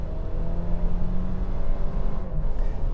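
A 2025 Toyota 4Runner Trailhunter's 326-horsepower hybrid powertrain accelerates under a heavy throttle, giving a faint, steady low rumble heard from inside the cabin with no talk.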